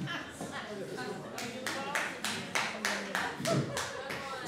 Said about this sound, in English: Slow clap up there and left.